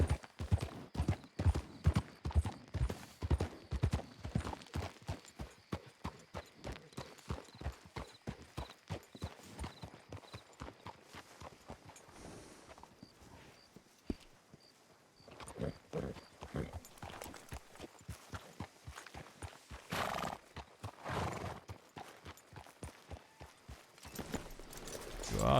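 Horse hooves clip-clop in a Wild West role-play video game, a brisk run of repeated hoofbeats that slows and thins into scattered steps, with faint ambience between them.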